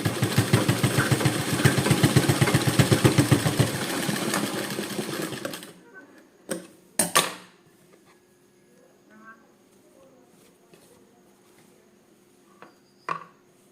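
Tailoring fabric piping on a sewing machine: a fast, steady mechanical stitching chatter runs close for about five seconds, then stops, followed by a few scattered clicks and handling knocks with faint talk in the background.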